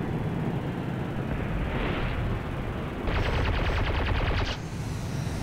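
Rapid cannon fire from a jet fighter in the War Thunder video game, with dense bursts of automatic shots lasting over a second against a constant roar of engine and wind.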